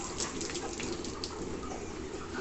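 Steady rushing of water pouring into a tank as it fills, a continuous gush at moderate volume with no pauses or voices.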